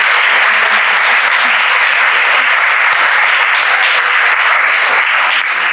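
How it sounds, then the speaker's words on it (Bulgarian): Sustained, loud audience applause at a drug-prevention opening event, thick continuous clapping at a constant level for several seconds, no voices on top. "Аплодирайте се, аплодисментите са за вас,"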